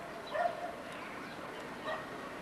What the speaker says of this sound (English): There are dogs everywhere barking.